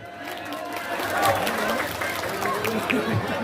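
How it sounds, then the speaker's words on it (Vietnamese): Wedding guests applaud to welcome both families at a celebration in Gia Lai, a steady crowd clapping with chatter and a voice over it, moderately loud throughout. "chúng ta hãy dập những tràng vỗ tay thật lớn để cùng chào đón hai bên gia đình ạ"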